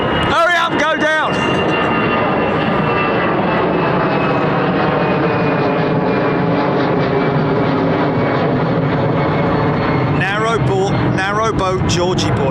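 Fixed-wing airliner climbing overhead after departing Heathrow runway 09R, a loud, sustained engine roar that holds steady for many seconds, with brief bursts of talk near the start and end.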